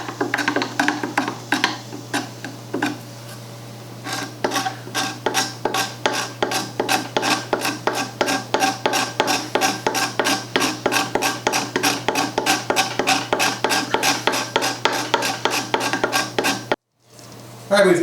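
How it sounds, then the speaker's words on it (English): Chisel scraping old glue off an antique oak fern stand, a rapid series of sharp rasping strokes, close and steady, repeating in quick rhythm for about seventeen seconds before a short pause. "using the chisel, just going to scrape off whatever glue we can get"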